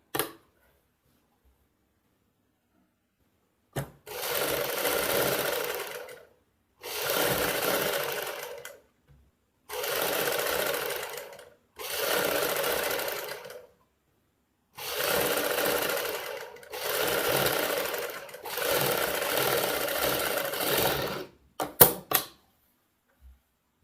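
Sewing machine stitching the side seam of a Punjabi suit, running in six bursts of about two seconds each with short pauses between, close and steady, with a few small clicks at the end and no talk.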